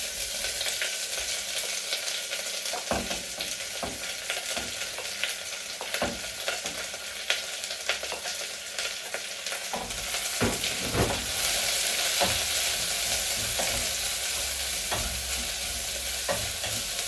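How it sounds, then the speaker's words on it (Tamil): Onions fry in hot oil for a spicy dry chilli dish, giving a continuous close sizzle with frequent scraping stirs. The frying gets louder and brighter near the end, and no one speaks. "நான் இப்போ இந்த வெங்காயத்தை போட்டு வதக்க போகிறோம்"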